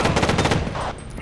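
Rapid automatic gunfire in Rainbow Six 3 on PS2, a close, loud burst of repeated shots that cuts off after about a second, leaving a quieter tail.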